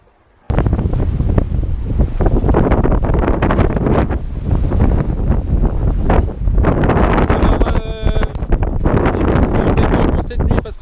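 Strong force 7 wind roars across the microphone on a sailboat at sea off Morocco at night, a loud continuous buffeting rush with surging bursts and water noise throughout, no talking.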